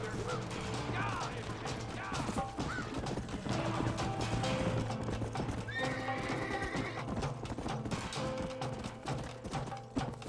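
Horse hooves clip-clop steadily and a horse whinnies in Red Dead Redemption, set against a busy, continuous game soundscape with mechanical rattles and clatter throughout.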